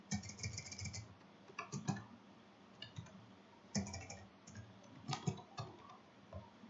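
Typing on a computer keyboard while entering text in an Excel spreadsheet, with irregular bursts of quiet, close key clicks separated by short pauses.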